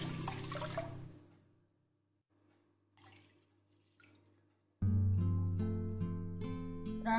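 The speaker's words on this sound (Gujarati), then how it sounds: "એની અંદર આપણે આવા 2-3 ગ્લાસ પાણી એડ કરીશું।" Water poured into washed lentils for Gujarati sweet-and-sour dal gives a brief splashing rush at the start, then a few faint drips before loud music takes over.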